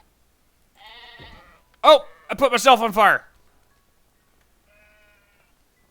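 Sheep bleating in the video game Craftopia, a few short, separate bleats followed by a louder, wavering cluster of cries, with a voice speaking in between.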